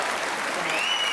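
Audience at a Tamil comedy debate in Cumbum clapping loudly, a brief dense burst of applause with crowd noise and a faint whistle-like tone near the end.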